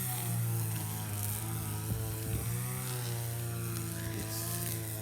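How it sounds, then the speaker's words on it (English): A motorized grass slasher buzzes steadily in a compound, a droning two-stroke whine at moderate distance with slight dips in pitch as it cuts. "Yeah, that is a machine slashing."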